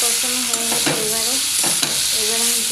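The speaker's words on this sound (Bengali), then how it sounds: "তা এখন একটু ভালো করে কষিয়ে নিই" Fish curry with raw banana, potato and bitter gourd is stirred and sautéed in a pan, giving a steady loud sizzle throughout with occasional scraping strokes of the spoon, close up and without speech.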